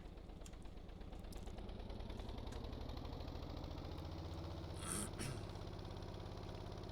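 A tractor engine idles steadily in Stormworks, a continuous low mechanical drone with a faint rhythmic pulse and a brief rise near the end, alone without talk.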